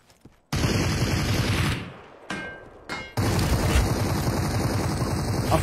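Dense gunfire rattles in a GTA roleplay game, sustained bursts of rapid shots that break off briefly twice before resuming loud and continuous, with no talk over them.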